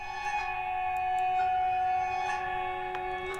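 A melody pitched up two octaves through a Sound Toys Effect Rack preset gives thin, high sustained tones with light shimmer over a soft steady bed, fairly quiet and continuous.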